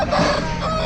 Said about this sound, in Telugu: ఒక 3-4 కోళ్ళు వేసుకొస్తున్నాం కోడి పుంజుల్ని